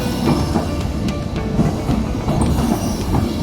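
A train bound for the Schaffhausen waterfalls in Switzerland rumbles loudly and steadily, with rail clatter and occasional metallic clicks, no voices.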